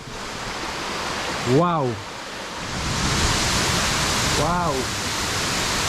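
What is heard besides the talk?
rushing waterfall, Argyle Falls, Tobago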